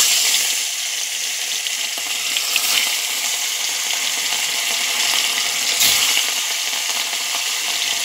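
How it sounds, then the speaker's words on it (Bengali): Fish fries in hot oil in a wok, giving a loud, continuous close-up sizzle with brief crackles and spatters throughout. "আমি কড়াই বসিয়ে তেলটা গরম হয়ে গেছে। আমি এখন মাছ ফ্রাই করব।"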